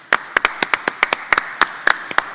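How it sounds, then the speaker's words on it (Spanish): Audience at a contract-management conference clapping, a dozen or so sharp, separate hand claps in an irregular rhythm, close and fairly loud, more like scattered clapping than full applause. "Un aplauso para todos."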